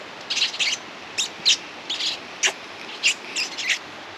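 Fantails, small birds, chirp from a nearby tree in a string of short, high, thin tweets, roughly ten quick calls spaced irregularly over a soft outdoor background.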